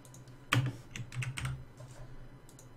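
A computer keyboard typed on hard and loud, with a sharp burst of clacking keystrokes near the start followed by irregular lighter key presses over a low background hum.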